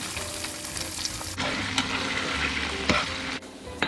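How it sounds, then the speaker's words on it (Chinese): Tofu pan-frying in oil with a steady sizzle, broken by scraping and clinks as a spoon turns the pieces one by one; close and fairly loud throughout. "煎豆腐需要耐心，要小心的一个个翻面，煎到金黄色就可以咯"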